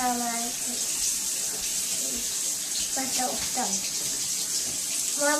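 Running water from a tap as a child washes face and hair, a steady soft hiss of flowing water throughout, with an adult and someone talking over it.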